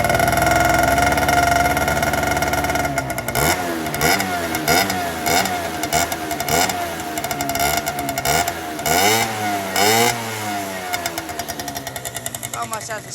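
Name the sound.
small engine revved gently during a sound test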